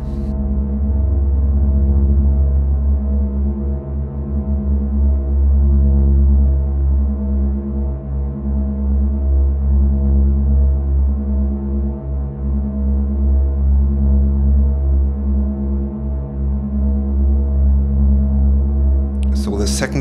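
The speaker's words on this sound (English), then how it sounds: "For this I take the sine wave out into my tuner" Eurorack modular oscillator putting out a low sine wave tuned to C1, a loud, sustained deep tone with slight pulsing, steady for twenty seconds before a brief click at the end.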